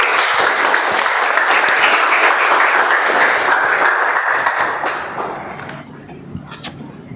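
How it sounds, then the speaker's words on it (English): A Toastmasters club meeting audience gives a round of applause for Toastmaster Raz, loud continuous clapping that fades over the last couple of seconds into a few scattered claps. "Can we have a round of applause for Toastmaster Raz?"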